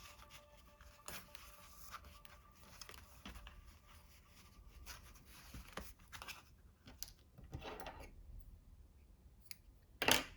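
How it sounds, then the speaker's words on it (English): Scissors snip excess binding thread on a hand-stitched long cross-stitch journal, with several soft, close cuts spaced apart amid quiet handling. "Cut off your excess there."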